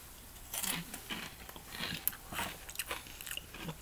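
Crunchy sour cream and onion potato sticks being bitten and chewed close up, a steady series of crisp crackling crunches with brief pauses between bites, fairly quiet and with no talking.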